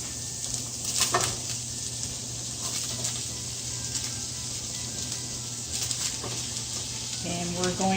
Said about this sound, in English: then I'm going to add in my carrots and my onions